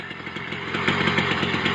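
A BT100 two-stroke engine on a Mk7 motorised bike idles steadily after a cold start, a close, buzzy, rapid putter with even pulses that swell slightly louder partway through.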